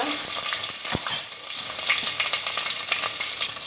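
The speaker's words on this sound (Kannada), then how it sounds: "ಮತ್ತೆ ಒಗ್ಗರಣೆ ನೀರುಳ್ಳಿ ಪಾಡ್ಗ" Onions dropped into hot oil for a tempering hiss and sizzle continuously and loudly, with a brief stirring clunk near the start and no talking.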